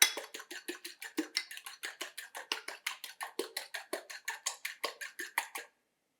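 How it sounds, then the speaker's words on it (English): A fork whisks eggs in a bowl with rapid, evenly spaced clinks and taps, about five per second, close and crisp, running for several seconds before stopping. "I want to whisk these eggs up."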